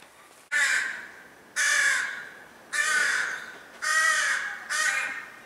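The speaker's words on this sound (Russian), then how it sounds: "Вороны дерутся, что ли?" Crows caw in a city courtyard as birds squabble in a tree: five loud, harsh calls in a steady rhythm, spaced about a second apart, fairly close, with no talk.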